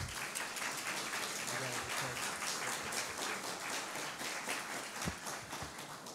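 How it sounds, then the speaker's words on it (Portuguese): Applause from an audience at a public hearing, a steady patter of many hands clapping at moderate distance for the whole stretch, with a faint voice underneath. "Uma salva de palmas ao Altieres, por favor."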